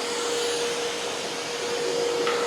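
A DeWalt 6 gallon wet dry vacuum runs with a steady, fairly quiet whooshing roar and a constant motor tone, unbroken for the whole stretch with no talking.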